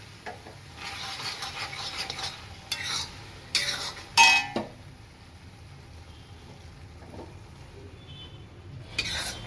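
Thabdi penda mixture stirred in a thick, heavy kadai with the heat switched off, a spoon scraping the bottom in a few distinct strokes over a low background hiss.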